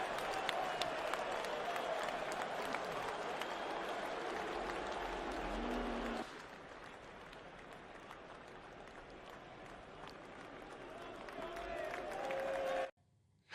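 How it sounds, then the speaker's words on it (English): Large crowd at an Ashes cricket match cheers and applauds continuously, a broad roar of clapping and voices that drops in level partway through and carries on steadily. "The cheer from the crowd was, I think, well-deserved."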